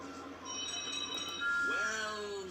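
Thomas the Tank Engine's steam whistle sounds as a bright, tonal toot with harmonics, followed by a shorter second whistle that bends slightly in pitch, close and fairly quiet, in a children's animated train scene.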